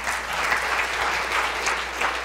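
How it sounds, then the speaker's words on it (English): Audience at a museum curator's talk on Norman Rockwell claps steadily, a dense, even round of applause from a modest crowd with no voices over it. "I think she deserves a round of applause for sure."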